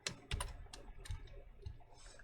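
Computer keyboard typing while entering text into a Google Forms page: a few scattered key clicks and short bursts, fairly close, with quiet pauses between and no talking.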